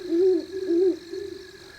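An owl gives two low, steady hoots, each rising slightly and then falling, followed by a softer trailing note. The call is fairly clear against a quiet outdoor background.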